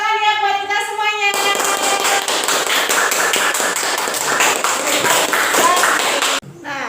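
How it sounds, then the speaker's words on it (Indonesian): Children clapping hands together in a classroom, a dense burst of rapid, loud applause that lasts several seconds and stops abruptly, following a short sung or chanted tone at the start. "Tepuk tangan ya buat kita semuanya."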